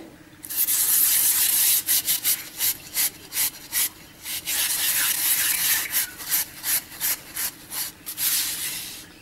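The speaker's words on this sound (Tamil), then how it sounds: "இப்போ இதை கழுவிக்கின்றோம்" A curd pot being scrubbed clean by hand, with close, rhythmic rasping strokes, first a long continuous scrub and then a quick run of short repeated rubs, with no talk.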